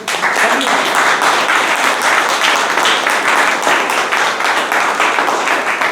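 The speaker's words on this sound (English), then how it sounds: "big round of applause for." A Toastmasters meeting audience gives a steady round of applause, dense clapping filling the room for several seconds with some voices mixed in.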